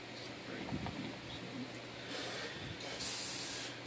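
Rust-Oleum white spray paint hisses from a can in short and longer bursts while painting northern lights spray paint art, close and steady with a stronger final burst.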